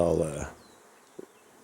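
Bees buzz around a beehive beside a workbench, a brief close harmonic drone fading quickly to a faint hum with a short soft knock near the end.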